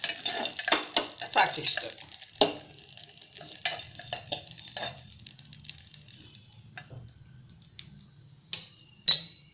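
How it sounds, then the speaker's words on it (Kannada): Cumin seeds crackle in hot oil for a pea usli, giving sharp, irregular pops and spits close by that thin out over time, with a few louder snaps near the end and a brief spoken comment. "ಜೀರಿಗೆ ಪಟಪಟ ಅಂದಾದೆ ಆಗೈತೆ"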